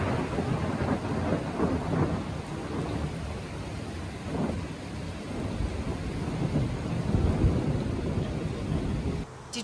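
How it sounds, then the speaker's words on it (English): Thunder rolls through a backyard thunderstorm, low rumbling swells rising and fading over steady rain and some wind buffeting, loud and close with no voices. "Did you hear maybe a little bit of thunder?"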